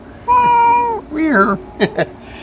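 Domestic cat meowing close by indoors, one long drawn-out meow followed by a shorter rising one and two quick chirps, loud and clear with no talk over it.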